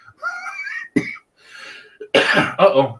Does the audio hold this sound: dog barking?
no